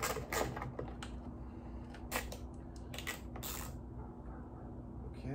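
A socket wrench ratchets on rusty 10 mm bolts of a Honda Acty van, giving close bursts of clicking and creaking over a low steady hum.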